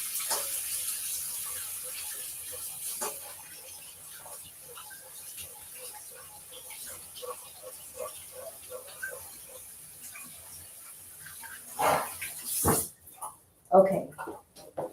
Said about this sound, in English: now I need to wash my hands so I can continue this cooking